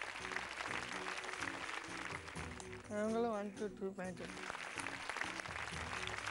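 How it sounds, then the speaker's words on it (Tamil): A studio audience on the Tamil TV game show Home Minister claps in a steady, dense patter that runs throughout, with a presenter briefly speaking over it midway. "நல்ல கைத்தட்டல்"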